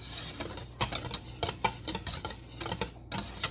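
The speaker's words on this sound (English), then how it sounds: "make sure you kept whisking the whole time, because it can burn really easily" A whisk beats cranberry curd in a pot as it nears a boil, quick rhythmic scraping and ticking strokes against the metal over a soft bubbling hiss, close and steady with no speech.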